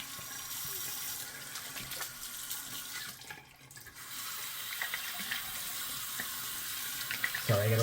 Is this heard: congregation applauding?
no